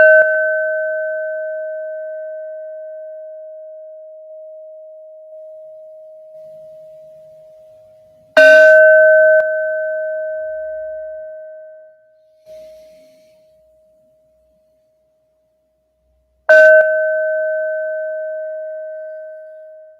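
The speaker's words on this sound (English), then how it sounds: "let's have some bells from Neptune" A bell is struck three times, about eight seconds apart, each strike a clear, pure ringing tone that sustains and slowly fades away in an otherwise silent space.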